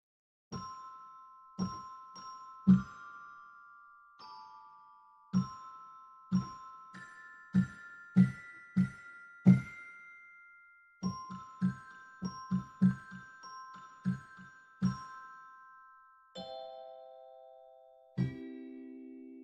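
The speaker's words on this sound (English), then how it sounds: "You have a celeste." A celeste from a free virtual instrument library plays a gentle tinkling melody of bell-like struck notes, each chiming and fading, in a steady run of about two dozen tones with a lower chord at the close.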